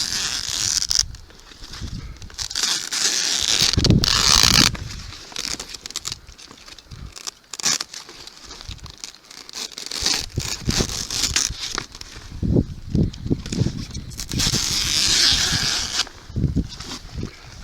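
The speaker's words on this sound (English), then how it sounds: "So we're simply going to take a knife and cut this square across." A knife slicing across AquaDam flood barrier material, a heavy plastic sheet, gives a long run of close rustling, crinkling and tearing patter with bursts of louder scraping, and no talk over it.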